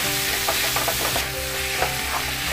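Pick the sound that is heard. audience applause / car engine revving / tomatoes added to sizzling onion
tomatoes added to sizzling onion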